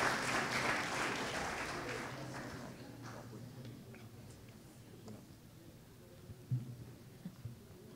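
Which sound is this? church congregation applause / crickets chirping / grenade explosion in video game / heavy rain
church congregation applause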